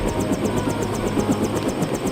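A helicopter in the video game Deus Ex: a continuous rotor drone with a fast, regular chopping pulse, loud and close, with no voices over it.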